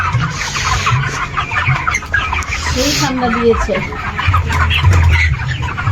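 A flock of 35-day-old chickens at a poultry farm on a cold day clucks steadily and close by, a dense chorus of overlapping clucks while someone talks over it.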